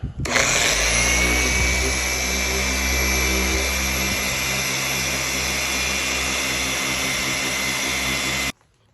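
Rotary car polisher with a wool pad spinning at high RPM on a Dodge Challenger Hellcat during paint correction, a loud steady whine with strong harmonic drone that holds continuously for about eight seconds before cutting off abruptly.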